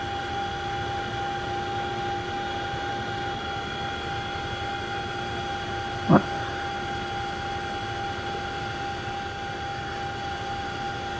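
A Chinook helicopter at Middle Wallop slowing to a hover, with a steady droning engine whine and tonal hum held evenly throughout and a single brief sharp click partway through.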